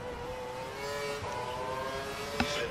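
A Formula 1 car engine at Marina Bay, Singapore in the F1 2012 video game holds a steady high-pitched whine, with a brief sharp spike near the end.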